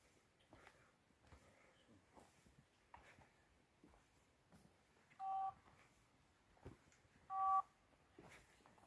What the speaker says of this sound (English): So that noise you can hear beeping is just his camera trying to pick up things.